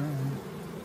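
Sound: bees buzzing around beehives

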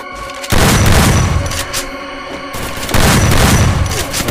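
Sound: gunfire in a shooter video game

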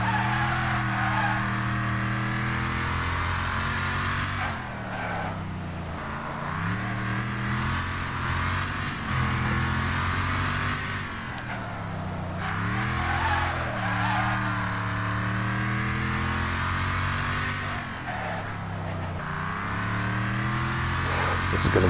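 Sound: cars racing and skidding in video game Wreckfest

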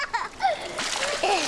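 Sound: water splashing in a paddling pool

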